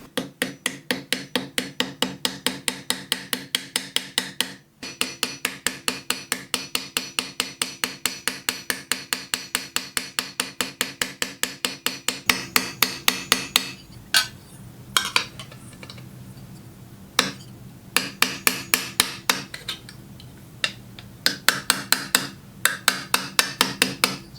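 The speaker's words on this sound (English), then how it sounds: "drill some holes and rivet everything together" Rapid, steady metallic tapping goes on for a long stretch, then turns into scattered, irregular knocks, like a small hammer striking metal on a hard surface, as rivets are hammered into a hand-forged metal pendant.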